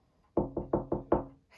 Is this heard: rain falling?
no